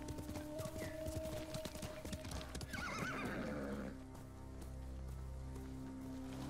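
A horse gallops with rapid hoofbeats and gives a whinny in the video game Ghost of Tsushima, all set against music and ambient game sound, before the hooves fade into a calmer musical passage.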